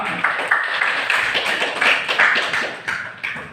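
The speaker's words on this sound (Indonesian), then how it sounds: "Tepuk tangan untuk kita semua." Clapping in a classroom during a mathematics lesson, a steady run of sharp, fairly close hand claps lasting a few seconds with no talking over it.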